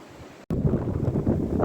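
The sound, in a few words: wind blowing on a hiking trail in the Luberon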